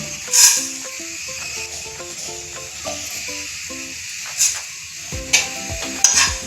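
Fenugreek and mustard seeds are dry-roasted in a pan for a citron pickle, giving a soft dry rattle and stirring sounds with occasional sharper crackles and scrapes. Faint music or talk sits underneath.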